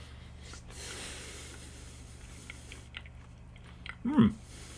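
Chewing a piece of puff bean curd, a chewy, soft sheet-like snack: a quiet stretch and then a short, close burst of wet munching near the end.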